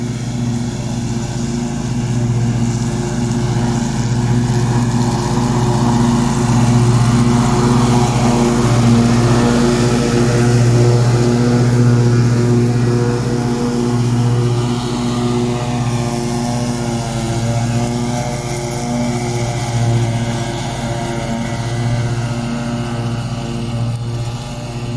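A new John Deere S160 lawn tractor with a 24 hp engine and 48-inch deck makes its first cut across an uneven lawn, its engine holding a loud, steady drone with a constant hum close by throughout.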